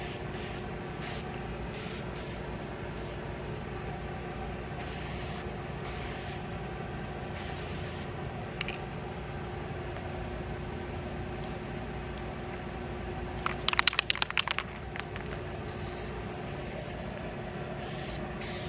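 A regular spray nozzle hisses steadily as it lays down Aluma-Hyde II epoxy coating, quiet and continuous for the whole span, with short brief bursts on and off and a clatter of handling noise partway through.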